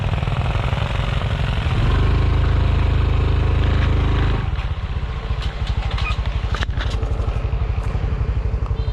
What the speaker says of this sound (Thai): ซีทีหนึ่งสองห้าที่เกียร์หนึ่งครับ